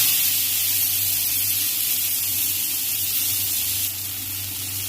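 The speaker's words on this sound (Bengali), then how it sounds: "এবার আমি কড়াইতে পেঁয়াজ কুচি দিয়ে দেবো।" Chopped onion hits hot oil in a wok after fried prawns are lifted out, setting off a loud, steady, close sizzle that stays even for several seconds before easing slightly near the end.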